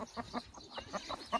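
A rooster, a fighting cock, gives a quick run of close, rhythmic clucks, about eight short calls in under two seconds, fairly faint and with no talk over them.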